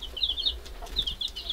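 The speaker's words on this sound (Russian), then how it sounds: "Вот курочка зовет их к себе." A hen in a shed gives short, high clucking calls to her chicks in two quick bursts, close by, with faint rustling in between and no talking.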